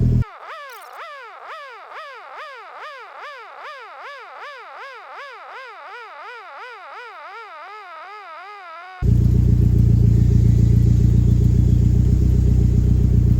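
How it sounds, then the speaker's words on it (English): A car engine idles roughly on a cold start as a loud, steady low rumble near the end, after a long, rhythmic rising-and-falling electronic warble. "that idle issue is clearly not fixed on cold start"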